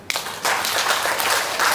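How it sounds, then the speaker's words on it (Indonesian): A seminar audience at a motivational training event bursts into applause, with a dense, steady wash of clapping after a brief quiet start. "Tepuk tangan."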